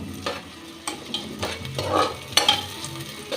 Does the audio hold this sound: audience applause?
no